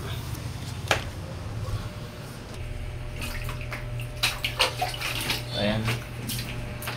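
Water runs and splashes from a tap as it is fetched to wash off a mess, with a steady flowing rush and a few sharper splashes, and faint voices in the background.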